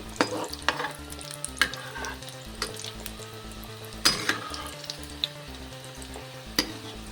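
Folded flower-shaped vegetable samosas deep-fry in hot oil, a close, steady sizzle broken by sharp pops and occasional clinks of a utensil stirring them.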